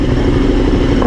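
A KTM Super Duke R or Aprilia RSV4 sport bike, exhaust valves wide open and in track mode, idles loud and close with a steady, rumbling, lumpy engine note.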